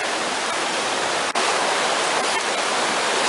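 Creek water rushing steadily at a trail crossing of a washed-out creek in the Deep Creek area, a broad, even flowing wash heard close and continuous with no voices.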